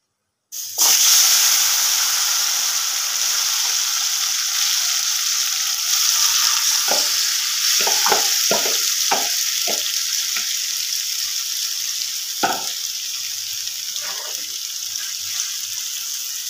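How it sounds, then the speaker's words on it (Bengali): Marinated chicken pieces hiss and sizzle loudly in hot oil in a kadai, a steady frying roar broken by several sharp scraping stirs in the middle and a later stroke, with no voices. "এইবার শুধু মাংসটা দিয়ে একটু নাড়াচাড়া করব। এবার মাংসটা কড়ার মধ্যে দিয়ে দেব।"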